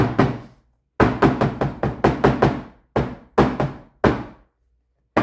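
A metal cake pan is tapped repeatedly on a hard counter, a quick series of sharp, close knocks in bursts with short pauses between.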